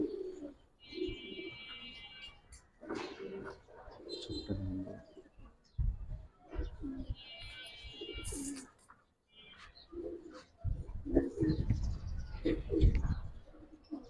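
Pigeons in a loft of silver and colored breeds coo in repeated soft, low throaty phrases, with someone talking over and between the calls.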